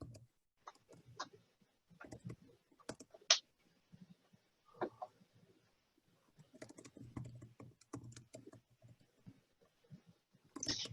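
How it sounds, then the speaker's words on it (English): Intermittent bursts of typing on a computer keyboard, with light, sharp key clicks that come in short runs with pauses between them. The sound is quiet and close, and no one speaks. "Just typing an answer here."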